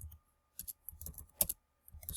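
A few quiet, sparse clicks of typing on a computer keyboard, heard close up in short irregular bursts with pauses between.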